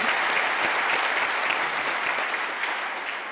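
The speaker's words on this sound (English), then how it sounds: "let's give her the round of applause she deserves" Sustained round of applause from a seated retreat audience, a dense steady wash of clapping at full strength that tapers slightly toward the end.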